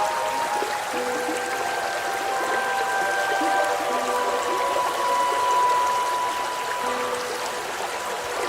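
Water runs steadily from a small waterfall in a shrimp terrarium, a continuous soft trickling and splashing with faint tonal ringing, close and unbroken throughout.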